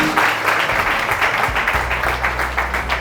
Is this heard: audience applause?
yes